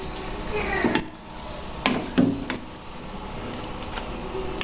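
Cooked mixed vegetables are scooped out of a pan, with metal utensils clanking and scraping against it several times over a steady background sizzle.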